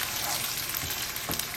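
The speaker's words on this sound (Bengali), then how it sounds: "চালটা আমি একটু ভালো করেই ভাজবো।" Raw rice fries in a hot pan, making a steady, close hiss of sizzling with a faint scrape partway through.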